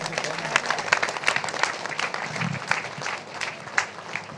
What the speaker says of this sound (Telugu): వారికి గట్టిగా చప్పట్లు.